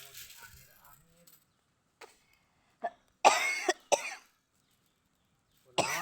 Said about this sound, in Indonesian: aduh batuk nih.